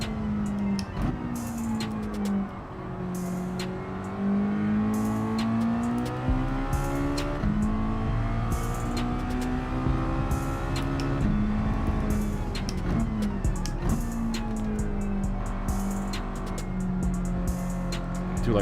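Small car engine in Gran Turismo 7, droning steadily with rising and falling pitch as it accelerates and shifts through gears, loud and continuous throughout with a faint voice briefly in the background.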